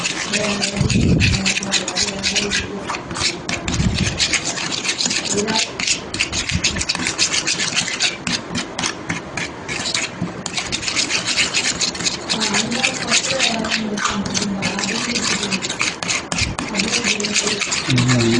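Continuous wet rubbing and squelching as chicken is mixed by hand with a spicy marinade containing tomato ketchup, close and steady for the whole stretch with no talking.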